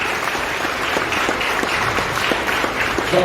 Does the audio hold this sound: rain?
no